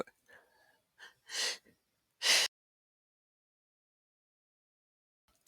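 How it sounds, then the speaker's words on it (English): A single sharp sneeze near the microphone, preceded by a few quick breaths and a short gasp, then quiet. "Sorry, I sneezed."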